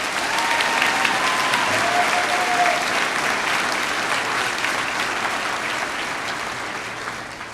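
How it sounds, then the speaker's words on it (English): Graduates at a university convocation ceremony receive loud, continuous applause from a large audience of family and friends, a dense steady clapping that fills the hall and tapers off slightly toward the end. "Let's give them all a round of applause."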